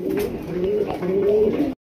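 A pair of Rasgolla pigeons coo close by in steady, rolling phrases for almost two seconds before cutting off abruptly.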